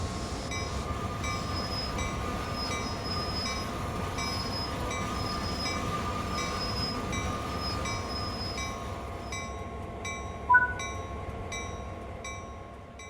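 A freight locomotive in Train Sim World 5 on the Sand Patch Grade rumbles steadily with faint high squeals and repeating electronic tones, then a short sharp hiss near the end as the automatic brake is applied and it slows.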